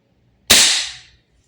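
A single sharp report from a VFC BCM MCMR gas blowback airsoft rifle, loud and close, with a crisp crack that decays over about half a second in otherwise quiet surroundings.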